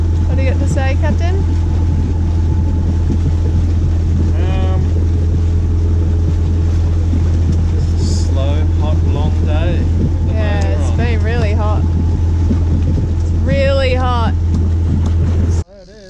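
A sailboat motoring through a calm, windless sea, its engine giving a loud, constant low drone with steady hull and water rush, while people talk intermittently over the running motor.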